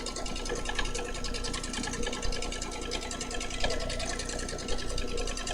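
A domestic sewing machine runs steadily through free-motion quilting, its needle chattering at an even, unbroken pace close up for the whole stretch.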